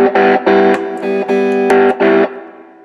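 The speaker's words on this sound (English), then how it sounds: "So that's the distortion, and I think it's very flexible." An electric guitar played through a Mooer Solo distortion pedal sounds loud, gritty chords in short bursts separated by brief gaps, with the final chord ringing out and fading.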